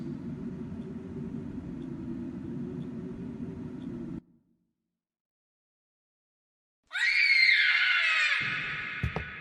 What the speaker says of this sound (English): I still vividly remember hearing my own screams.